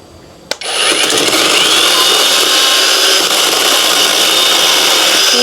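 Electric firewood-cutting saw starts with a sharp click, then runs at a steady, loud, high-pitched whine while slicing through firewood, held close and continuous with no talk.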